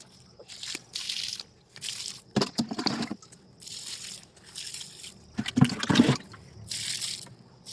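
Water splashes and trickles in repeated bursts as lemongrass is watered, poured in short pulses with brief pauses between, close by and fairly loud.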